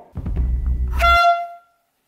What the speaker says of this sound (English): We got the air horn prank